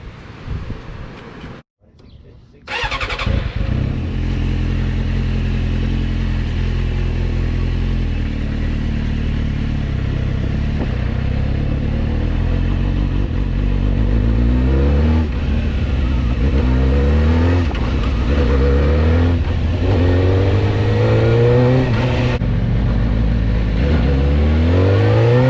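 A Suzuki GSX-R 600cc sport motorcycle starts up after a short silence and rides off, the engine loud and close with a steady drone, then rising and falling through repeated revs and gear changes, no talk.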